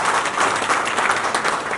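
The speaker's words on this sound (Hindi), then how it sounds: "आप सब लोग इनका ताली बजा करके इनका हौसला अफजाई करें" People at a community welfare society meeting in Mustafabad clap together, a close, loud, even rattle of applause lasting under two seconds.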